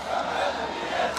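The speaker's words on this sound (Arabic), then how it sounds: "الجماهير دلوقتي بتنادي الكابتن أسامة" Football fans chant together for Captain Osama after a match, a dense crowd roar of massed voices swelling and falling over just over a second.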